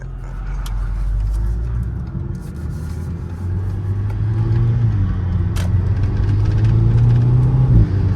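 A 2007 Volkswagen GTI accelerating with traction control off and a blow-off valve spacer: a low engine rumble that builds steadily in loudness, ending in a brief sharp release near the close.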